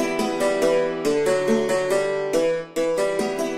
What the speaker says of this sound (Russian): берем инструмент, который называется кельтийский молотковый